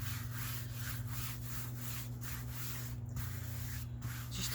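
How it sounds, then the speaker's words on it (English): A hand smoothing fabric down onto a glued hard-cover journal gives a steady, close dry rubbing and brushing with soft repeated swipes, over a constant low hum. "Now I'll smooth with my hand first"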